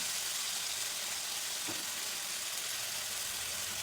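Sprouted moth beans (matki) hitting a hot oiled pan for Maharashtrian usal, giving a steady, even sizzle of frying that holds at the same level throughout with no speech.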